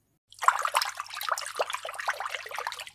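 Running water splashes and trickles steadily as mud is rinsed off a small plastic toy sheep, a close, continuous wet patter with no voices.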